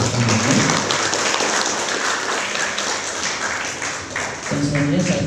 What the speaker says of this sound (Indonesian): tepuk tangan untuk Bapak Menadi atas pertanyaannya.